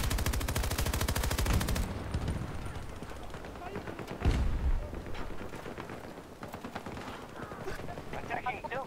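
A PKP machine gun lays down suppressive fire in Battlefield 2042, with a fast, steady stream of loud close shots that stops after about two seconds. Sporadic distant gunfire and a single heavy thump follow, while players talk over it.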